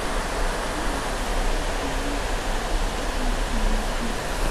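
A waterfall in misty Scottish landscape rushes with a steady, full roar of falling water that sounds fairly close and even throughout, with no talking.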